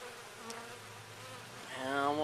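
Honeybees hum steadily around a backyard beehive in spring, a soft continuous drone with a single insect passing close by and the buzzing rising louder near the end.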